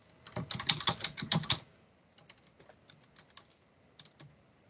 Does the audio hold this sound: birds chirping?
no